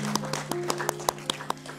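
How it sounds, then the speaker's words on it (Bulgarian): Crisp, evenly spaced handclaps repeat about five times a second at a performance event, sounding like a short burst of rhythmic clapping over a faint steady hum rather than a full crowd's applause. "Аплодисменти за Мия."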